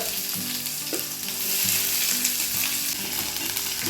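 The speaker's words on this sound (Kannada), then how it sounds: "ಈರುಳ್ಳಿ ಅಂತ ಫ್ರೈ ಮಾಡ್ಕೋತೀನಿ ರೀ ಒಳಗೆ" Onions sizzle and crackle in hot oil, a continuous dense frying hiss with occasional stirring knocks; no voices.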